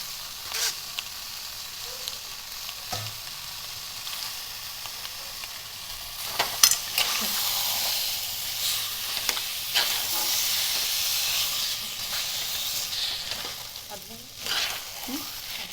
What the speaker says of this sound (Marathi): हे एकसारखं हलवून आपण हे घट्ट करून घेणार आहोत पुरण